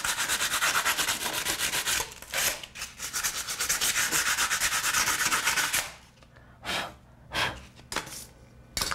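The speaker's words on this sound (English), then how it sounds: "It's easiest just to leave it on and sand it." A blank outlet plate cover on a wall is sanded by hand, a close, continuous scratchy rubbing that breaks into short separate strokes toward the end.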